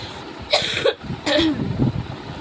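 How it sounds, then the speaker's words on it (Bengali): A woman coughs several times in a row at close range, harsh bursts separated by short pauses, with a throat-clearing sound near the end. "কাশিটা মনে হচ্ছে যাবে না, আমাকে ছেড়ে এত ভালোবাসে আমাকে।"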